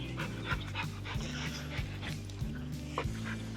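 A pet dog, called pup, pants steadily at close range in short rhythmic breaths, with a few faint whimpers and yips mixed in over a low background hum.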